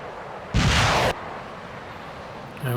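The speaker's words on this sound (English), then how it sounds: "we've got some more F-35s launching more missiles against the Tupolevs" A missile launch from F-35s against Tupolev bombers in the naval strategy game Naval War: Arctic Circle: one loud, roaring burst lasting about half a second, then a quieter tail and a soft tone near the end.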